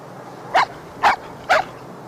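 A puppy at the Ohlone Dog Park in Berkeley, California gives three short, sharp barks spaced about half a second apart, close and clear over a quiet background.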